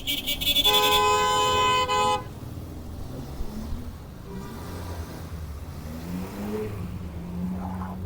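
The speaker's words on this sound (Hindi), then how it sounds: "और ज़बरदस्त ट्रैफिक जैम हो गया।" Car horns blare loudly in a dense burst of overlapping honks amid a jammed street, then engines rumble and vehicles creep along with scattered fainter toots.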